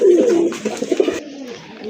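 Pigeons coo at close range, several throaty rolling calls in quick succession, with no voices. The birds are a pair of males with heavily feathered feet, among many colourful local and foreign breeds offered for sale, including satin and racers.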